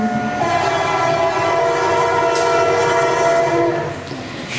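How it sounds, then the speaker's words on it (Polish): Train sound effect played during a stage play about a train, steady rolling railway noise with a horn-like tone throughout, loud and continuous without speech. "zaraz zatrzymają pociąg"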